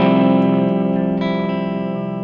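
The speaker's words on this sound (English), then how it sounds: "So this is going to be the clean tone, a little bit of reverb." A 2016 Gibson ES339 electric guitar plays a clean chord through a Vox AC15 amp with reverb, one sustained ringing strum fading out alone.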